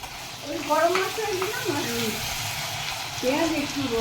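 Onions frying in oil for prawn pulao, giving a steady background sizzle while a voice talks over it and a bird coos nearby.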